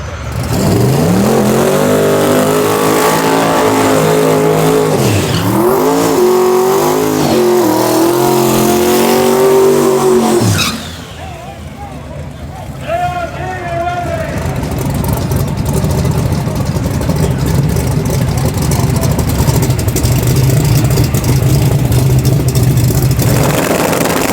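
Procharged Big Za truck making a shakedown pass at a race event, engine roaring loud and close with rising revs for about ten seconds, then a sharp cutoff into lower, rougher idling and distant engine noise.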